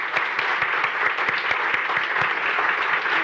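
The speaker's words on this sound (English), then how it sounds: "So please, a big round of applause for them." Audience applause for four young panelists at a plenary session on youth and innovation, a steady, dense round of clapping from a sizeable crowd with sharper individual claps standing out.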